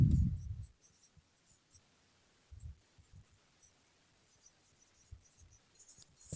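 Handwriting on a surface during an English grammar lesson, heard as faint, sparse scratching strokes in short bursts separated by quiet pauses, close up and very soft.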